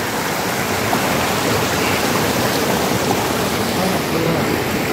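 A river stream flows in a continuous, even rush of water close by, with no break or change across the whole stretch.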